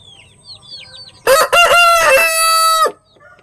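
Country chickens sound off in a backyard coop: soft clucks and chirps, then a loud, close rooster crow with a choppy start and a long sustained call.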